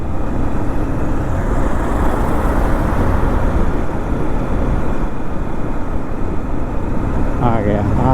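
A vehicle overtaking on an Indian road heard from a moving motorcycle, a steady loud roar of engine and wind noise throughout, with someone talking over it.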